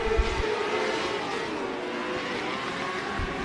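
Open-wheel race cars circling Port City Raceway, a steady dense engine roar at moderate distance with no clear individual passes, continuous throughout.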